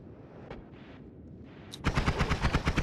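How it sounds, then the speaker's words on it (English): A thrown flask explodes in the pixel-physics video game Noita: after a quiet stretch with a few soft blips, a sudden loud burst breaks into a rapid, even train of crackling blasts that keeps going to the end. "He throws a flask that explodes."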